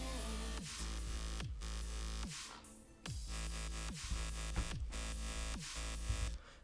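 Melodic dubstep drum pattern playing back with heavy booming kicks and snappy hits over a dense, sustained synth bed, loud and full, with a brief dip and swell partway through before the groove resumes.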